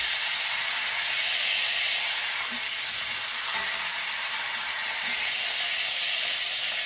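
Roast beef searing in a hot pan, a loud continuous hiss and sizzle that stays steady throughout, close up with no speech over it.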